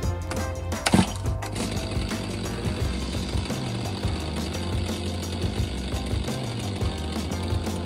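Someone tries to start a chainsaw, with a sharp pull-cord rattle near the start followed by a rough, sputtering mechanical churn that never settles into a steady run, heard close up and with no talking.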